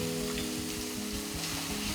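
Chopped tomato with a little salt fries in a pan over medium heat, giving a steady close sizzle with soft stirring scrapes and no voices.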